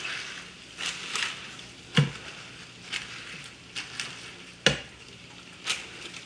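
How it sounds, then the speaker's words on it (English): Boiled potatoes smashed flat fry in a pan, giving a steady close sizzle with a few sharp utensil knocks and scrapes scattered through it. "And we're gonna let them fry up, and then we'll flip them"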